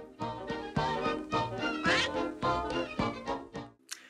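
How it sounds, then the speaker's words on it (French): Donald Duck, the Disney cartoon duck, quacks in his raspy, garbled voice: a rapid string of nasal, buzzing squawks, close and fairly clear, with no other talk. "il s'agit du 89e anniversaire d'un certain canard, Donald Duck"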